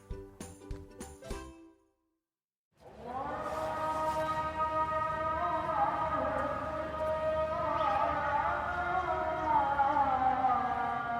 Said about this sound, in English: what you're hearing there is a Muslim call to prayer